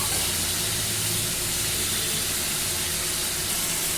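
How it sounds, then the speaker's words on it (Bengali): Water pours and hisses into a pan of sizzling cauliflower and potato curry, a steady, loud, broad wash of sound that holds evenly throughout with no voices. "এখানে আমি একটু জল দেব।"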